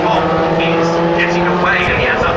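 Formula 3 race cars at Brands Hatch during the 2012 British Formula 3 race, engines droning loudly and steadily throughout, with a race commentator talking over them.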